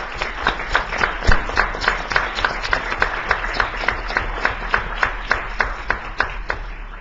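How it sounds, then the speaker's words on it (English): Applause from the audience at a state education board meeting, honoring school principals. Clapping is steady and rhythmic, with sharp regular claps standing out against a thinner spread of hands. "let's give these principals a round of applause."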